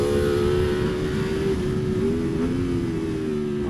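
A Ducati Panigale V4 SP2 motorcycle at full throttle on a racetrack, its engine a loud, steady high-revving roar with harmonic pitch shifting slightly as it rides through the gears, close and continuous with no talk.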